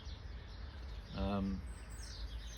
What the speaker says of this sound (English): I'm noticing more and more birds now making a lot more noise.